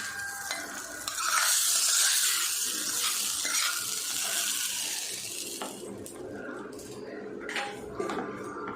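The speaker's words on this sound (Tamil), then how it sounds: "நம்ம ரெடி பண்ண தாளிப்பை சட்னியில் சேர்த்துக்கிறேன்" A sizzling tempering poured into chutney, a burst of loud crackling hiss that settles into a softer fizz, followed by clinks of a spoon against the pan.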